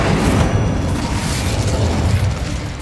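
An Incendio fire spell blasting in Hogwarts Legacy, a loud, sustained roaring burst of flame and rumbling explosion that fills the near field for a few seconds before easing slightly.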